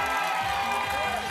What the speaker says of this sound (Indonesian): Tepuk tangan dong, tepuk tangan dong.